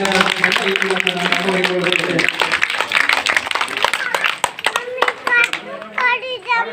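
An audience at a school function claps for children receiving notebooks. Scattered claps run under steady talk and children's voices, with the clapping thinning out toward the end.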